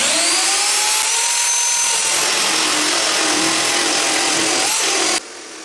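A power drill whines steadily into steel, a loud continuous grinding tone that cuts off abruptly near the end.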